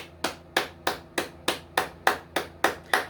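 One person's hands clapping about nine times in a steady, even rhythm, each clap sharp and close with a short decay, with no talking.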